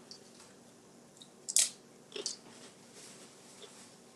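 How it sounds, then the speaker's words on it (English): Knife slicing through a breakfast chaffle made with cheese and bacon, two short crisp crunches close by against a quiet room, no talking. "All right, I'm going to cut it in half."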